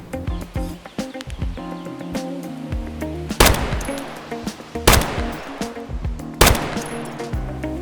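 Sniper rifle shots in a video game fight against Zryachiy and cultist guards, three loud sharp cracks spaced about a second and a half apart, ringing over a busy bed of game music and ambient effects.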